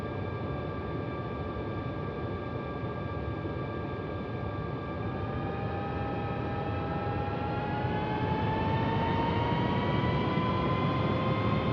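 Airbus A320neo jet engines spool up on a takeoff roll in the Real Flight Simulator game, a steady loud roar with rising whining tones that climb gradually in pitch throughout.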